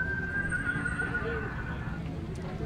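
A horse at a street parade whinnies with a long, high, clear call over a steady murmur of crowd noise and background chatter.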